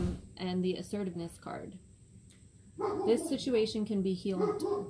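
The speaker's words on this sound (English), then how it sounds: "Sorry about the dog." A dog barks and yips indoors in a short burst, then again after a pause, closely mixed under a voice as she talks through a tarot card reading.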